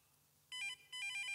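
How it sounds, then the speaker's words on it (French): Cartoon telephone ringing in two short electronic bursts with a brief gap between them, bright and loud over a quiet background. "Il faut que je réponde au téléphone."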